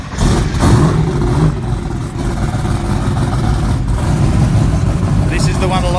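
A Toyota Celica full-chassis drag race car with a 2J engine and three-speed automatic, loud and close, its engine note sustained and rough at a drag strip in testing.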